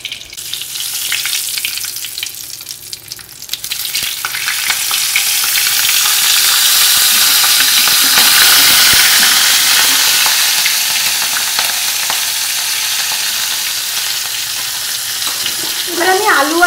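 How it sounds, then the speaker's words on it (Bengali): Black cumin and green chilli tempering fry loudly in hot oil alongside a fried hilsa fish head, a strong, steady close sizzle that swells midway and carries on with faint stirring. "কাঁচা লঙ্কা ফোড়ন দিয়ে নেব।"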